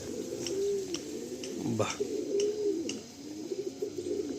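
Madrasi pigeons from a white set give soft, repeated low coos that rise and fall across the stretch, with a short exclamation from a person and faint background bustle.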